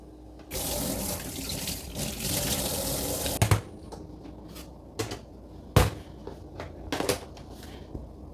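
Tap water runs hard into a kitchen sink for washing, a loud steady gush for about three seconds, then quieter trickles broken by a few sharp clatters and knocks of dishes.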